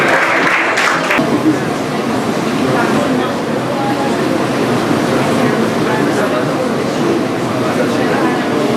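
An audience at a high school knowledge quiz competition applauds as a guest takes the stage; dense, loud, continuous clapping fills the hall after a brief voice at the start.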